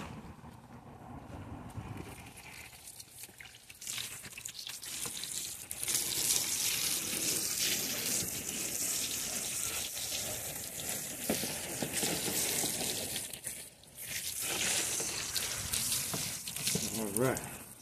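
Tap water runs to rinse a fish cleaning table after whiting are cleaned. It makes a steady, close splashing rush that shifts as the stream hits the surface, briefly dropping out mid-way, while a person talks over parts of it.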